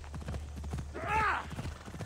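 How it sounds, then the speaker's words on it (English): Horse hooves clip-clop in the video game Assassin's Creed Odyssey, a quick run of close, even hoofbeats with a brief whinny in the middle, under a low steady background hum. "How do you get off the horse?"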